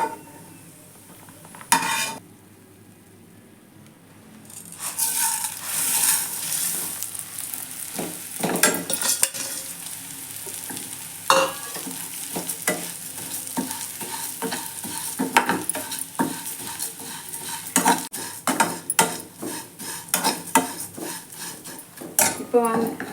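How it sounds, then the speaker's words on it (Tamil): Poha (flattened rice) roasts in a pan with cashews and raisins. After a quiet start, a spoon scrapes and clatters against the metal pan in frequent irregular strokes over a soft frying sizzle. "இப்போ அதிலே அவல் சேர்த்து வறுத்துக்கலாம்."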